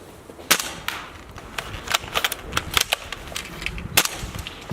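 An L96 toy pistol fires in a string of sharp pops and snaps, irregular bursts spread across several seconds at moderate loudness, with lighter clicks and rustles in between.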